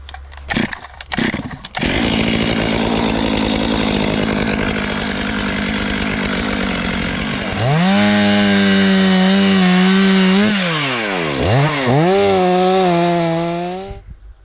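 A chainsaw cuts felled trees in snowy woodland, running at a loud, steady whine after a few short bursts, then bogging down and revving up and down as the chain bites into the wood.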